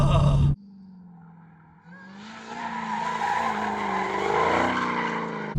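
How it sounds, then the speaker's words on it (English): A supercharged Dodge Challenger Demon engine revs up after a short burst, building from a low idle into a loud, rising, whining roar that swells steadily toward the red line with no talking. "It builds as you rev the car, and I love that about superchargers."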